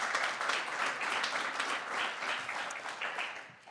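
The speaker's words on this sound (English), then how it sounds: "So round of applause to our fellows before they even start." An audience at a university pitch competition livestream applauds the fellows, a dense, even burst of many hands clapping for several seconds, slowly tapering.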